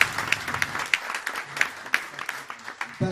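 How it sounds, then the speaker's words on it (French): Scattered audience applause at a chess open tournament ceremony, a modest crowd clapping unevenly with a few sharp individual claps standing out, steady for about three seconds. "Donc je vous demande de les applaudir."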